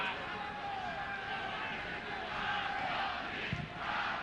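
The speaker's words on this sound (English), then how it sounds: "Crowd getting behind the home team here, urging them on for a victory." A football stadium crowd at a Marconi Stallions vs Sydney United match cheers and chants behind the home team in a steady, distant roar, while commentary runs over the top.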